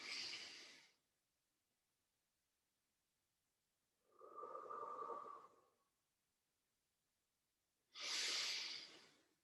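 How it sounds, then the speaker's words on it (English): Three slow, deep breaths during a Pilates stretch, each a soft, close airy exhale or inhale separated by quiet pauses, with no talking. "A couple of deep recovery breaths."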